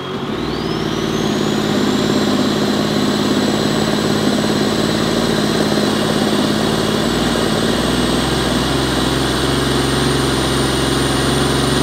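A Can-Am Maverick R engine fitted with Paragon turbochargers idles on factory anti-lag, giving a loud, steady mechanical drone close by, with a rising turbo whine that spools up early and then holds as a high whistle throughout.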